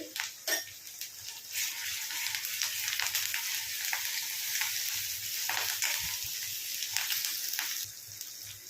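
Ginger, garlic and onion fry steadily in a pan, a continuous close sizzle with occasional stirring scrapes and no talking.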